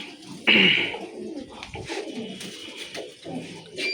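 A male breeder pigeon, the first sealed bird in a home loft, coos continuously at close range, with a sharper bright burst near the start and soft rolling murmurs afterward.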